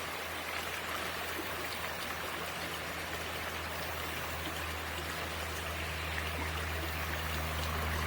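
Stream water flows steadily nearby at a swimming spot, a continuous soft rushing and trickling wash with a low hum underneath, with no talking.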